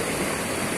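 Strong river current rushing at a river crossing, a loud, dense, continuous wash of water noise with no pauses and no voices.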